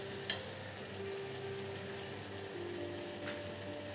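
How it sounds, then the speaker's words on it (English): Onions cooking in a pan toward a translucent stage, a soft steady sizzle running quietly throughout with a brief clink near the start. "For this particular recipe, we'll cook the onions till translucent stage"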